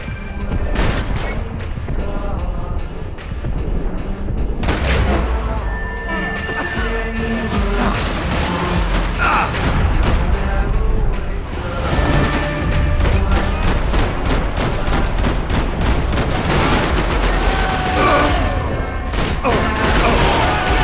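Grenade blasts and heavy gunfire in the Max Payne 3 shooter, with dense, continuous bursts of shots and booming explosions layered over a loud game soundtrack and no pauses.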